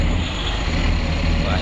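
Engine of a dump truck in Bus Simulator Indonesia pulling away in first gear, a loud, steady, dense drone running through the whole short stretch.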